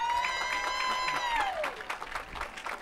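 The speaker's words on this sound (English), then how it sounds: "Please join me in another round of applause for our 2013 Dean's" A college graduation audience applauds the Dean's Medallion winners, a broad wash of clapping under a sustained tone that bends downward, moderate and steady throughout with some crowd noise.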